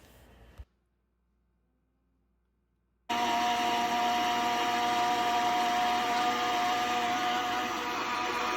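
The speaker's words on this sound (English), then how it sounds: "Add 3 to 4 handfuls of spinach into the blender." A brief click, then near silence, before a loud, steady blender motor whine starts and runs on evenly at close range, blending spinach and egg.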